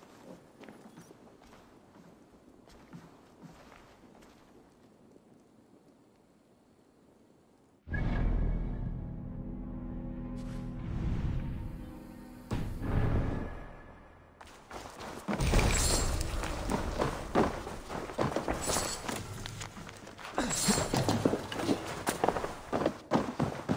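Horse hooves in Assassin's Creed Valhalla, first a soft steady clip-clop at a walk, then louder thudding hoofbeats as the horse breaks into a gallop, rapid and close with game effects layered over.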